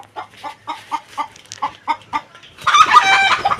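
A chicken clucks in a steady series of short, close, fairly loud calls, followed by a louder, longer burst of agitated squawking.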